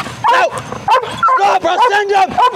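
A police dog barks and yelps in rapid, loud bursts at close range during an arrest, mixed with shouted commands from officers.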